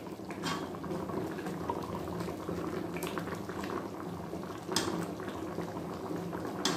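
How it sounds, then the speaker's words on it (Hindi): Mango kadhi bubbling at a steady boil in a pot, a dense continuous burble of popping bubbles with a few sharper pops, close and even throughout, no voices. "ये अभी कढ़ी थोड़ा पतला है, इसे थोड़ा और गाढ़ा होने दूंगी, तो इसे बॉईल आने दीजिए"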